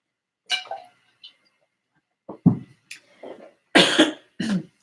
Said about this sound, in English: excuse me, I'm going to cough a second